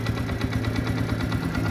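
Honda CD 70 motorcycle engine idling steadily with the throttle closed, a loud, close, even chugging pulse with a smooth regular rhythm throughout.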